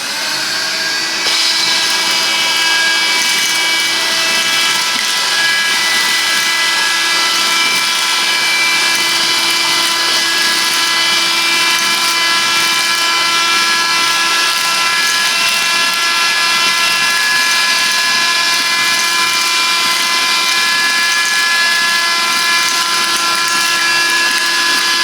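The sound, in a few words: Silvercrest handheld vacuum cleaner running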